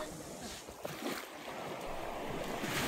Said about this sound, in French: écouter le clapotis des vagues